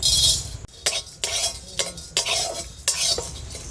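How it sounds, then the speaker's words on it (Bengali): Black pepper and cumin dry-roasting in an empty wok, with repeated scraping strokes of a metal spatula against the pan in an uneven rhythm, close and fairly loud. "মাছের তরকারির জন্য গোলমরিচ আর জিরে খালি কড়াইতে ভেজে নেব"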